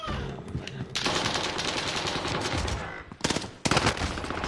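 Rapid automatic gunfire rattles in a video game, long dense bursts broken by a short pause and then resuming loud and close.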